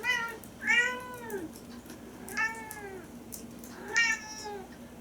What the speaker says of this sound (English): Could you please stop meowing so much?